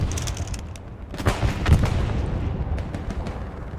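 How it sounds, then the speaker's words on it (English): A rumbling roll of deep explosions from an Allied bombing run in a Hurtgen Forest battle video game, heavy booms building and then fading into a low rumble with sharper cracks, loud and close. "it was an Allied bombing run"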